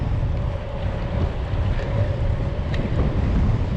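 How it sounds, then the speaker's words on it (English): Wind buffets the microphone of a cyclist riding into a headwind on an outdoor trail, a constant loud rushing and rumbling with no voices. "Feels like I am going into the wind."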